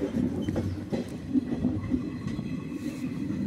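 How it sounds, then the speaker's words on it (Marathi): Steady rumble of a passenger train in motion heard from inside, on the Osmanabad (Dharashiv) to Harangul (Latur) line, with rhythmic wheel clatter and low rolling noise, no voices. "आज आपण धाराशिव ते हरंगुळ म्हणजे आपलं उस्मानाबाद ते हरंगुळ असा रेल्वेने प्रवास करत आहोत"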